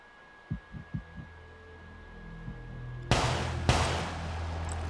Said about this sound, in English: I don't know why there's a heartbeat coming from it.